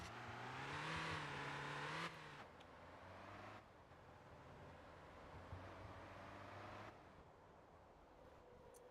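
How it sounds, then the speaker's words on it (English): A car engine in the MotorTown driving game revs high and strains for about two seconds, then drops to a lower idle-like drone with faint mechanical whir, fairly quiet throughout with no talking. "I guess some of the engine sounds aren't the best also."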